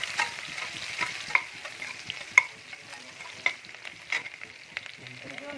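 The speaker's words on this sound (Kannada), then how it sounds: "ಈರುಳ್ಳಿ ಹಾಕ್ತಾ ಇದೀನಿ" Onions and curry leaves frying and stirred in a pan for village-style country chicken curry, a steady close sizzle broken by sharp scrapes and clatters of the spoon at irregular intervals.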